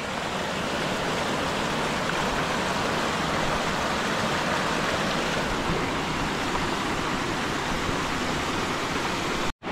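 Steady broadband rush of water flowing in a village stream where crabs are being caught, loud and continuous throughout with no voices, cutting off abruptly at the end.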